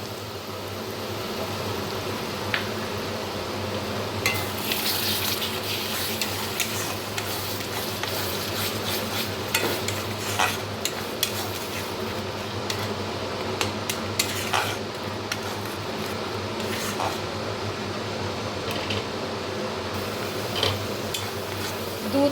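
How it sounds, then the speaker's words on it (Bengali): A utensil stirs prawn malai curry masala with coconut paste in a pan, giving a steady run of scrapes and light metallic clinks against the pan over a low background hum, with no voices. "দু থেকে 3 মিনিটের মতো খুব ভালোভাবে নেড়ে চেড়ে নিয়েছি"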